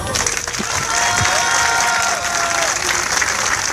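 A crowd at a tuning car show in Sestu bursts into loud, sustained applause and cheering, with a steady tone running through the noise and voices mixed in.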